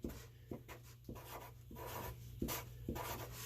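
A math expression is written by hand in short, soft scratchy strokes that come in an irregular rhythm, quiet and close, with no talking.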